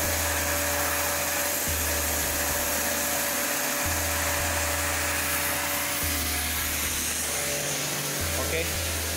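A high-pressure water jet washer with a brushed motor sprays stubborn paint on a towel, giving a loud, continuous whining motor drone and hiss that cycles in level a few times, with a voice talking over it.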